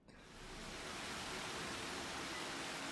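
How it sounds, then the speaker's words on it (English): Water gushes steadily around the base of a Divine Beast in Zelda: Breath of the Wild, a dense continuous rushing hiss that swells in over the first half second and then holds loud and even, with no talk. "there's kind of like water coming out from around the bottom"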